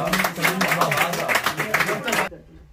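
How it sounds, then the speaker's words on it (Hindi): An audience at an Urdu women's literary seminar applauds for the poet Durdana Ansari: dense, steady clapping for about two seconds that stops abruptly, leaving near silence. "भरपूर तालियां बजाइए दुर्दाना अंसारी के लिए"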